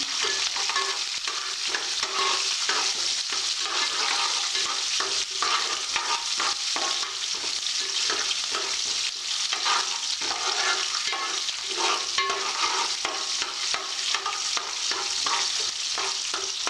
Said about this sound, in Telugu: ఆ తర్వాత పచ్చిమిర్చి వేసిన తర్వాత ఒకసారి కలుపుకుందాం